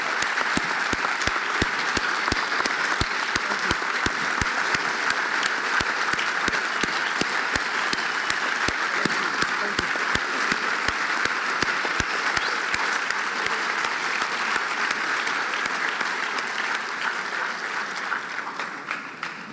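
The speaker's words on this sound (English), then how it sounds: "Please join me in giving another round of applause to Ta-Nehisi Coates" An audience at a book talk applauds for a long stretch of steady, dense clapping that fades slightly at the close.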